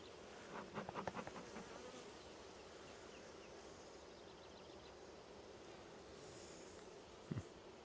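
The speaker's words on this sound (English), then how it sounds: "Get these bees off the top." Honey bees buzz during a hive inspection, a soft continuous drone with a brief louder burst of wingbeats near the start and another near the end.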